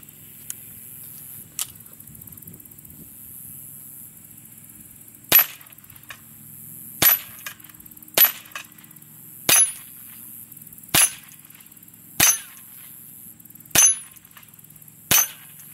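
Pistol shots with Federal ammunition fired at a spinning target ring out as sharp, loud cracks: a couple of isolated shots early, then a steady string of about eight spaced roughly a second apart.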